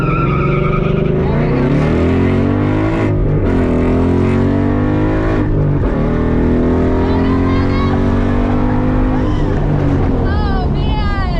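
A drag racing car makes a run down the track, its engine screaming loud and close with rising revs, gear changes and a howling high-pitched whine throughout.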